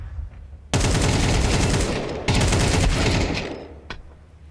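Rapid automatic gunfire from the Counter-Strike video game in a professional tournament match, two loud sustained bursts of shots separated by a brief gap, fading toward the end.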